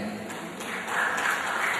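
Brief applause from the audience at a political dialogue event in Surabaya, a soft steady patter of clapping that swells a little in its second half, heard from a distance with no speech over it.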